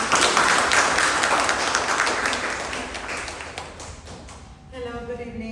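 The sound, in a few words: applause for a speaker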